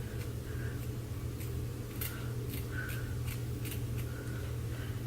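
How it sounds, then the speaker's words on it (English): Scissors trimming the lace edge of a full lace wig, giving a run of small crisp snips spaced about a second apart, close and fairly quiet over a soft background hiss. "And just cut off that extra piece."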